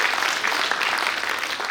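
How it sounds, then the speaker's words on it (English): Audience at a steel industry conference inauguration in Bhilai applauding its sponsors, a steady wash of clapping that stays loud and even throughout without a break. "Request the audience to please give them a big applause."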